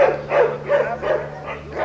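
A trained show dog barks in a repeated rhythm of about five yelps while performing tricks on its back legs at a training school demonstration, fairly close and loud.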